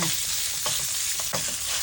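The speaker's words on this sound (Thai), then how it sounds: "ตั้งกระทะใส่น้ำมันเล็กน้อย ตามด้วยเนื้อหมูสับ ผัดให้หอมก่อนเลยค่ะ" Minced pork stir-fries in a little oil in a pan for a red tomato sauce, a steady close sizzle with soft scraping stirs throughout and no talking.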